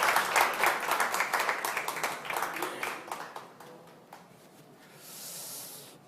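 Audience applause greets a candidate taking the stage at a People Power Party vision presentation, a dense burst of clapping that gradually thins and fades over several seconds, ending with a soft hiss of room noise.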